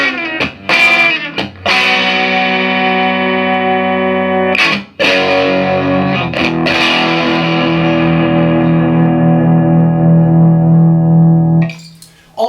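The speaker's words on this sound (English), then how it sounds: "I'm playing through a Matchless amplifier. This is a Sampson-era Lightning 15-watt reverb." Distorted electric guitar chords from a Telecaster Thinline through a Sampson-era Matchless Lightning 15-watt reverb tube amp ring out loud and sustained, with a warm amplified crunch and long decaying tails, several struck chords with no talking.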